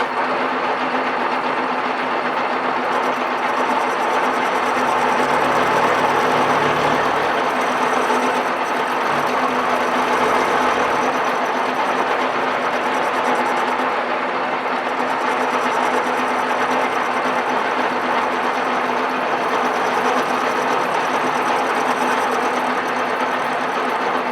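A power tool runs steadily and loudly throughout while lightly levelling a flat surface during a pressure-washer repair, a continuous close whine with no pauses or talk.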